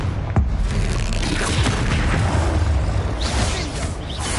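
Depulso and Expelliarmus spells cast in Hogwarts Legacy, a video game: a dense, rumbling barrage of booms and whooshing blasts with a sharp hit near the start and fizzing bursts later, loud and continuous.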